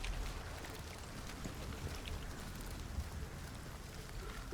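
Video game rain makes a faint, steady hiss of falling drops that stays even from start to finish, with no distinct impacts or voices.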